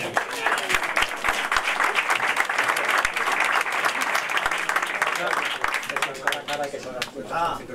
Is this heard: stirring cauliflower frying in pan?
no